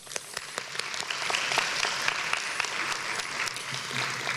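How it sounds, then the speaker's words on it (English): Audience at an honors convocation giving faculty a round of applause: a few sharp individual claps at first, swelling into a full, even wash of clapping that carries on for several seconds. "Audience, please join me in giving our esteemed faculty a round of applause."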